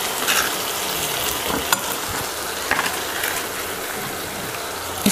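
Ginger achaar with dates, raisins, jaggery and salt cooks in a pan, giving a continuous frying sizzle with occasional stirring clicks and taps. The sound is even and moderately loud, with no speech.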